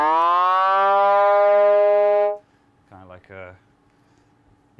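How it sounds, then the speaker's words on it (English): A synthesized siren tone sweeps upward with rich harmonics and holds loudly for about two seconds, then cuts off, followed by brief voice-like bursts over a low hum. "Your intake on a police siren."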